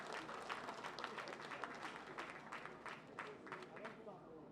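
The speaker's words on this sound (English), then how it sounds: "Can I have a round of applause for him, please?" Audience applause for Governor Babagana Zulum at a project commissioning in Lagos, a steady roll of many hands clapping with crowd noise beneath and a few louder claps standing out.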